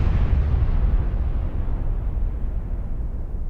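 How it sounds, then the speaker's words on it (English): A deep, rumbling explosion-like sound effect in a cover song, a continuous low boom that slowly dissipates over a few seconds with no voices. "Almost like a volcano exploding in the distance."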